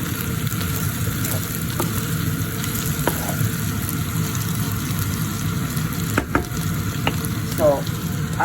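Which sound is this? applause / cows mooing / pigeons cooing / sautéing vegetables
sautéing vegetables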